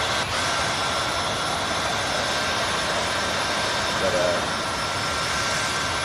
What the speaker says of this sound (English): Let's start engine 2.